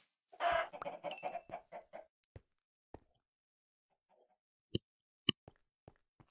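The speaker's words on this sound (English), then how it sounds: "I'm gonna kill chicken, probably." Minecraft chickens clucking in a mountain area: a burst of quick clucks up close, then sparse single clucks and soft plops spaced out over near silence.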